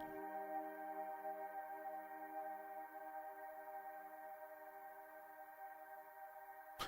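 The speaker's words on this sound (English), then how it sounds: "Oh, that's just the reverb." A faint, sustained drone of stacked steady tones lingers as the reverb tail of a Eurorack modular synthesizer, holding evenly at low level without any attack or talk.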